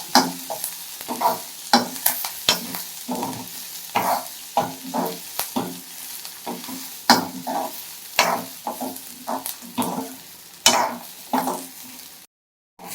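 Coconut fries in a pan for fish curry, a spatula stirring and scraping in a quick, repeated rhythm over a soft sizzle, close and clear with no voices, ending in a brief silence.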